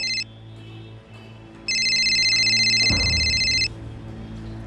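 A telephone rings in a short electronic burst, falls silent briefly, then rings again in a longer sustained tone over a low background hum, followed by a soft thud.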